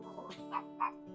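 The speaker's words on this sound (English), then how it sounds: "all these dogs yipping and barking" Small dogs yipping in two short, sharp bursts, faint and a little distant, over a steady low hum outdoors by a fire.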